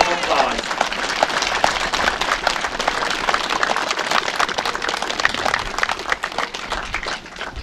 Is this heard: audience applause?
yes